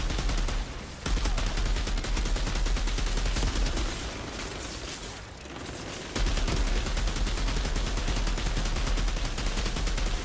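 Heavy, continuous gunfire aimed at an enemy in the video game Outriders fills the whole stretch with dense rapid shots, dipping briefly twice before resuming at full loudness.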